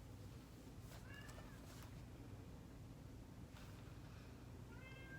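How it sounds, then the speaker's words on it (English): A pet cat gives a few faint, short meows indoors, quiet against a low steady room hum, with no one talking. "That's my cat."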